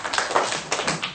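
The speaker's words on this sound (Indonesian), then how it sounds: "Tepukan untuk Ashikin" Brief classroom clapping for a pupil during a Year 5 maths lesson, a short scattered burst of hand claps from a few children, fairly close and light.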